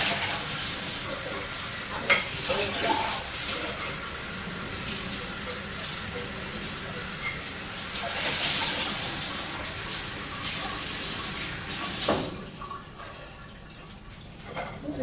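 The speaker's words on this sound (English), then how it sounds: "Now I am just rinsing this bowl." Tap water runs steadily into and over a bowl while it is rinsed in a home kitchen during lunch preparation. A continuous, loud splashing rush shifts as the bowl is moved under the stream.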